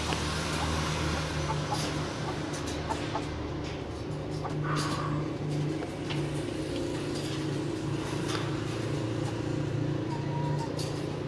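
Dong Tao chickens clucking on a Vietnamese farm, intermittent near clucks and calls over a steady low hum of machinery, with brief bursts of sound scattered across the stretch.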